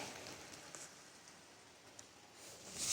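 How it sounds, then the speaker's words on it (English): Steady rain falls outside early in the morning, a soft continuous hiss with faint scattered drops and no talking, growing slightly louder toward the end. "raining pretty good."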